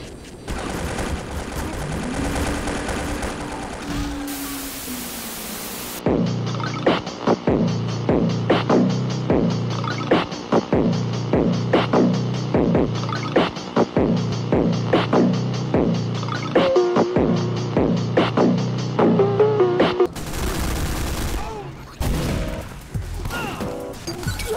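A steady, rhythmic stream of loud game gunshots from Team Fortress 2 pounds out for about fourteen seconds amid droning background hum and other in-game effects.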